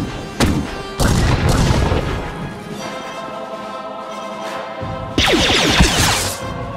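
Blaster fire and booming impacts in the video game Star Wars: The Old Republic, several loud overlapping shots and blasts in close succession, with no talking.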